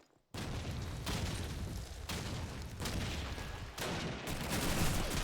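Machine gun fire in Call of Duty 2 multiplayer, a dense, continuous roar of rapid shots and booms that starts suddenly after near silence and stays loud, with intensity surging in waves.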